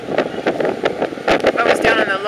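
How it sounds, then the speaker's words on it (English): Wind gusts across the open top deck of a ferry bound for Bremerton, a steady rushing roar buffeting the microphone with louder bursts, a voice faintly present. "It's pretty windy though."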